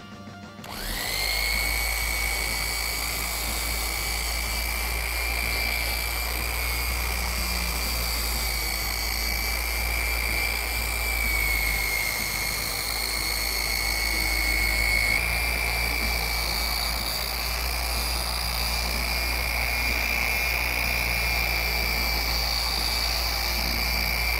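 A Porter Cable polisher runs steadily and close, giving a loud, continuous motor whine with a deep hum underneath. It starts abruptly and holds an even pitch throughout, with no voices.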